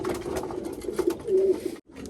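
Pigeons brought from Holland coo softly and steadily in a loft, a low rolling murmur of several birds close by, with a short silent gap near the end.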